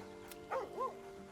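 A dog in Baldur's Gate 3 lets out a short, faint yelping howl with a rising and falling pitch, heard once from a moderate distance over quiet game ambience.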